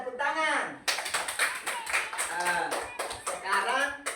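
Schoolchildren in a classroom clap their hands in quick, uneven bursts while voices talk and call out over the clapping.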